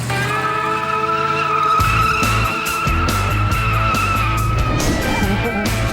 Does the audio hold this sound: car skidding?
yes